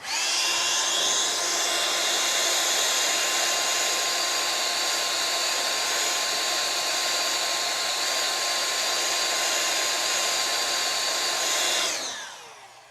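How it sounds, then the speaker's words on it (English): A Ryobi Whisper Series air blower runs steadily with a loud, close, high-pitched whirring hum for about twelve seconds, then winds down and stops. "let's see how many grams we can get out of the Ryobi Whisper series"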